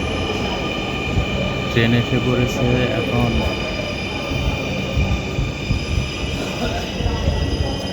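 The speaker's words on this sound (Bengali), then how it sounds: "তো এই তো ট্রেন এসে পড়েছে" A metro train pulls into a station in Uttara, Dhaka, its wheels squealing with high, sustained tones over a steady rumble as it slows, while a person speaks briefly over the noise.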